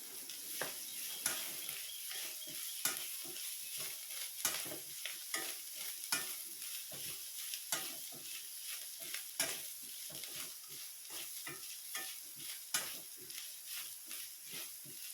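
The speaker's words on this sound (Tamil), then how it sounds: "அடுத்து தேங்காய் பூ போட்டு நல்லா சூடாகிற வரைக்கும் நல்லா வணக்கலாம்." Onion and grated coconut being sautéed in a pan for thuvaiyal chutney, with quiet, rapid, regular spatula scrapes over a faint sizzle that carry on steadily throughout.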